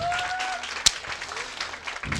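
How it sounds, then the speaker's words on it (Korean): Audience applause at a business seminar after a lecture ends, a moderate spread of clapping with a sharp louder clap standing out near the middle and some faint voices mixed underneath. "큰 박수 부탁드립니다"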